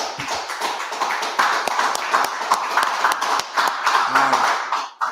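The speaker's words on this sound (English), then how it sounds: "Everybody clap it up for the closing." A crowd claps continuously, a dense, close patter of many hands with a few louder individual claps, over a faint voice.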